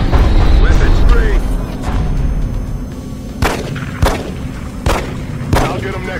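Gunfire in the turn-based strategy game XCOM: Enemy Unknown: four sharp, loud shots land in an uneven rhythm over a droning game backdrop, with voiced lines spoken before them.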